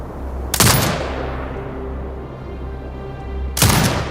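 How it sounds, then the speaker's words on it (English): Turret gunfire in the Sniper Ghost Warrior Contracts 2 video game: two loud, broadband bursts about three seconds apart, each with a long rumbling decay, over a steady low engine-like drone. "Exit binocular mode and command the turret to fire."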